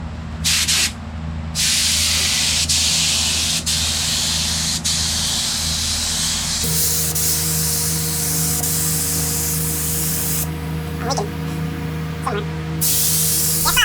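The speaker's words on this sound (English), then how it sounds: "The compressor is going to kick on. It's going to be annoying." An air compressor runs steadily through a spray-painting job on a restored part, its low mechanical drone constant and loud, with hissing bursts of spray over it and a brief quieter gap near the start.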